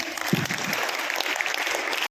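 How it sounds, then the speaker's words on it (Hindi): Applause from a school audience at a Children's Day event, dense and steady for about two seconds and heard alone without talk. "जोरदार तालियां जाबिर सर के लिए।"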